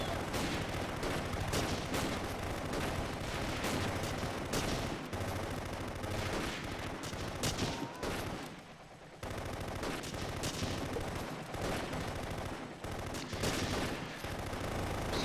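Dense gunfire from a Close Combat video game battle on the Kharkov front at Belgorod crackles in rapid overlapping bursts and fusillades, nearly continuous, with a short lull about two-thirds through.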